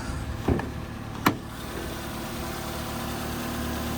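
A car engine idles steadily under an open hood, a close, even mechanical hum with a couple of brief clicks or knocks near the start.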